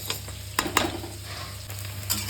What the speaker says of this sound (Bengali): দেখুন এখন কিন্তু ভাজা করছি পনির।